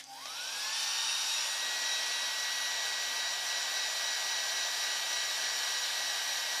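A heat gun runs steadily and loudly, shrinking heat-shrink tubing onto kite fittings; its airflow rises in pitch at the start and then holds a constant whooshing hiss with no talk.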